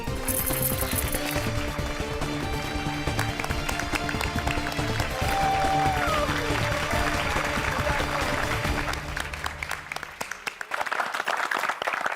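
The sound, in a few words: applause for Gokuldham Society residents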